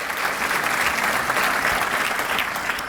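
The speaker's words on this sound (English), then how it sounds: "Let's give our presidents a round of applause." An audience at a city State of the City event applauds college presidents, a dense, steady burst of clapping that holds loud and even throughout without pause.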